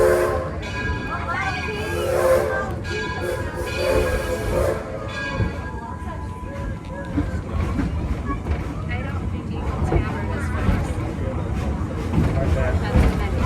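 Ride on the train through Edison's village, a steady rolling rumble of the cars with a clear horn or whistle blast early on, heard up close throughout.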